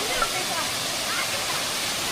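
Earmayi waterfall rushes in a steady, loud, dense roar of falling water, close by and unbroken for the whole moment.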